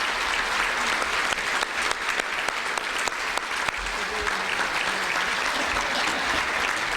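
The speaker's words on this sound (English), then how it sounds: "let's have a round of applause for Congressman" Sustained audience applause at a chamber of commerce breakfast following a congressman's talk, dense steady clapping with a few sharper individual claps standing out.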